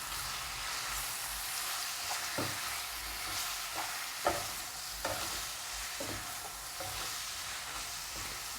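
Stirring chili powder, coriander powder and green chili into liver masala in a pan, a steady close scraping and sizzling with a few sharper spoon knocks, no voices.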